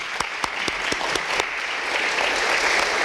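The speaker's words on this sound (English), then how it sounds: "Big round of applause for them," Audience applause at a chamber of commerce mayors' breakfast, a loud sustained crowd clapping with a few sharp, distinct claps standing out near the start before settling into an even wash.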